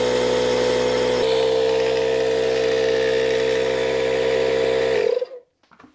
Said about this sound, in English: I'm gonna air up the tires.